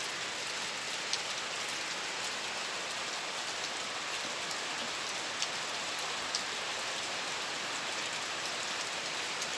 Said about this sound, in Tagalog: Ngayon, umalan na naman. Nagsimula ng umulan ulit.